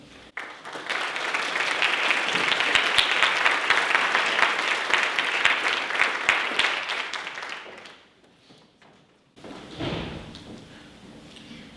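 An audience at a faith and culture institute lecture applauds to welcome the speaker, a dense, loud wash of clapping that holds steady for several seconds, then fades out, followed by a brief thump and quiet room noise.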